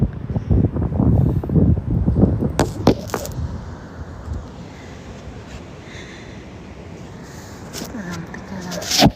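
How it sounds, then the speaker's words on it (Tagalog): Strong wind buffets the microphone at Merlion Park, Singapore, in loud gusty roars. Voices are heard faintly in the first few seconds, and the wind eases to a softer steady rush before rising again at the end. "Hayop yung hangin."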